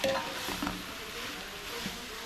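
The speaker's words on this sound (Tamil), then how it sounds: "இப்போ வெங்காயம் நல்லா பொன்னிறமாக ஆகிற வரைக்கும் நல்லா வதக்கணும்" Onions frying in a pan until golden for a large batch of drumstick kara kuzhambu, a soft, continuous sizzle with a faint clink of a utensil early on, moderately quiet and without voices.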